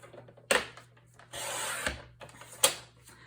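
Paper being trimmed on a paper trimmer for a mini album page: sharp clicks of the blade, a longer scraping slide across the sheet, then another click, close and quiet with no speech.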